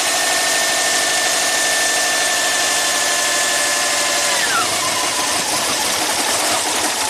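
A Subaru engine runs steadily with the alternator connected, a loud continuous mechanical drone with a high whine that drops in pitch about two-thirds of the way through as the engine labors.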